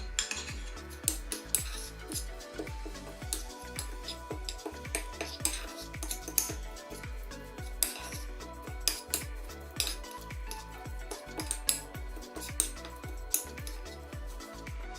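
Rosemary seasoning being mixed in a bowl with utensils, a run of quiet rhythmic metallic clinks and scrapes, close and fairly faint, with no talking.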